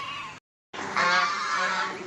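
Honking, goose-like calls from a duck in a village yard with goats nearby, a loud nasal burst, a brief silence, then a longer run of harsh honks close by.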